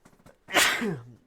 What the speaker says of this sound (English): I'm trying not to sneeze